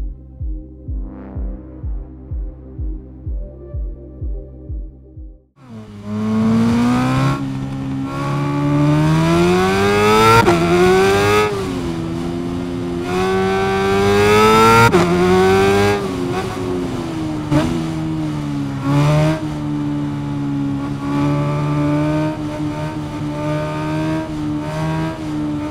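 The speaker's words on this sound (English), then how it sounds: "Rev it up." A motorcycle in the video game RIDE 5 idles in a throbbing, pulsing rhythm, then roars to life with loud, sustained revving that rises and falls in pitch through repeated throttle sweeps.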